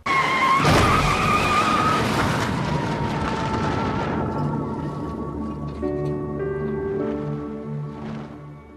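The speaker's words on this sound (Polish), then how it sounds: "słyszeliście o wypadku Hanki Mostowia, która zginęła wjeżdżając w kartony" A car skids with a loud screech, then crashes into cardboard boxes with a crashing impact and lingering rumble that fades into quieter tonal sounds.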